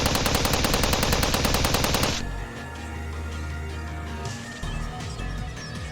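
A rapid burst of automatic gunfire in the visual novel Steins;Gate 0 lasts about two seconds, dense and loud, then cuts abruptly to a low, steady hum and faint scattered sounds.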